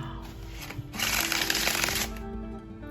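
Close riffle shuffling of a new Tarot of the Divine deck, a brief crisp flutter of cards snapping together, loud and alone over a faint room background.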